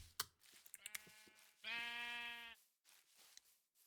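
Single sheep bleat from the video game Minecraft, a short nasal wavering cry lasting under a second amid soft clicks and faint background sounds, heard on a farm with several brown and grey sheep.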